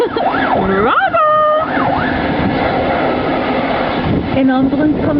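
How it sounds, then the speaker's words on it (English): Emergency vehicle sirens wail at a roadside scene where a tarmac truck has caught fire after exploding, the rising and falling tones loud and close at first, then continuing under steady rumbling noise and people talking nearby. "An ambulance coming."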